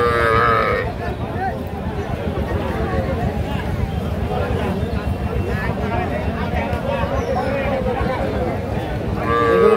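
Young heifer and bull calves at a busy livestock market low and moo repeatedly, several calls close by over a steady crowd murmur and people talking throughout.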